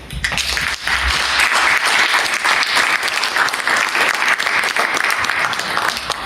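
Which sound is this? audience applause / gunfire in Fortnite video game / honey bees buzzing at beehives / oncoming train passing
audience applause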